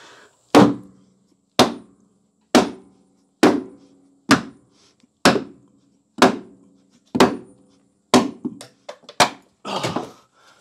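Ten or so sharp hammer blows strike the wooden front framing of a home cinema. They land at a steady, roughly one-second rhythm and sound close and solid, with a few lighter knocks at the end and no speech.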